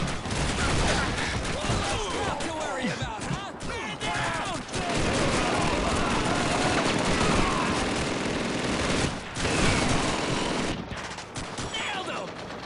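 Dense, continuous machine gun fire and battle noise in the World War II shooter Call of Duty 2 at Hill 400, loud and sustained with brief dips, a player's voice faintly under the barrage.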